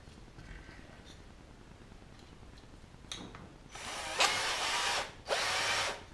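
Quiet rustling, then a power drill whirs up loudly in two close bursts with a short pause between, nearby and alone with no talking.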